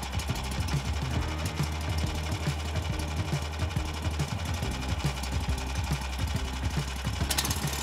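A small engine of a Draxter tracked snow scooter chugs with a rapid, steady rhythmic knocking, running continuously at close range throughout.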